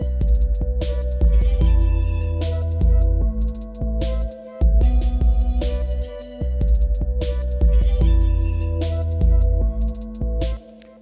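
Violin line in B with an octave jump and a quick run, heard inside a dense hip-hop mix with steady beat and bass, loud and continuous with brief drops.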